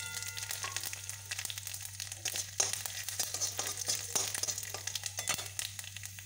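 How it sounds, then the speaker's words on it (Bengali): Dried red chillies, a spoonful of whole spices and a small bay leaf frying in oil make a faint, close crackle of irregular pops and crinkles over a low steady hum. "এই তেলেতেই দুটো শুকনো লঙ্কা, 1 চামচ ফোড়ন, একটা ছোটো তেজপাতা দিয়েছি।"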